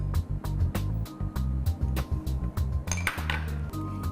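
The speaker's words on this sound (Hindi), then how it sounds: "तो मिलाते हैं हम इसमें ये प्याज" Onion being added to a cooking dish in a home kitchen, heard as repeated clinks and scrapes of utensils against a pot, fairly close and steady, with no talking.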